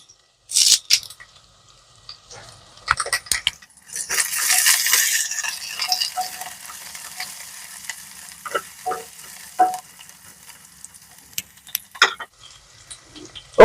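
Garlic and curry leaves fry in hot oil, a steady sizzle that swells loud for a few seconds, then settles into softer crackling with scattered clinks and stirring rattles close by.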